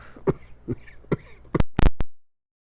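A few sharp coughs, then a couple of louder, harsher bursts close by, ending in silence.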